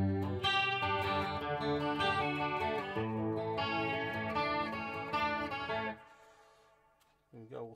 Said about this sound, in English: It'll do sort of pseudo Leslie tones, Leslie speaker tones as well